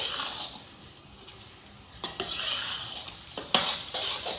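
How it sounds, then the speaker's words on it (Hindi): Chicken and potato filling with Maggi masala being stirred in a pan, with scraping and light clinks of a spoon, quiet and close, with no talk. "मिक्स करेंगे इसको अच्छे तरीके से।"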